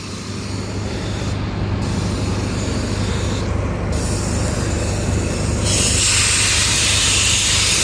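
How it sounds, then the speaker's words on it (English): Compressed air from a compressor rushes through a pipe as a steady, loud broadband hiss with a low hum underneath, growing slightly brighter and stronger toward the end. "Amazing how warm the air out of the compressor is."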